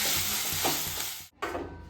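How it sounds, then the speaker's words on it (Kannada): Mint and coriander leaves frying and being stirred in a pan, giving a steady close sizzle with stirring scrapes and a brief break near the end. "ನೋಡಿ ಈ ಥರ ನೀಟಾಗಿ ಫ್ರೈ ಮಾಡ್ಕೋಬೇಕು ಒಂದು 5 ನಿಮಿಷ."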